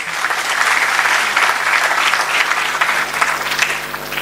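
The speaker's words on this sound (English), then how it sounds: "Keep the claps going" Sustained applause from a conference audience at an international innovation event, dense and steady clapping throughout, loud and close with no talk over it.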